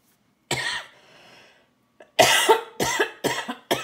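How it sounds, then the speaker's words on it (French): Someone nearby coughs once, pauses through a faint raspy breath, then lets out a quick burst of four or five harsh coughs in a row. "désolé pour la toux"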